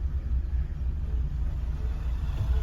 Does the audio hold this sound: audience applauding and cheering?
no